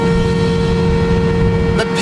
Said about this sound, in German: Ich werde jetzt mal so richtig auf die Hupe drücken.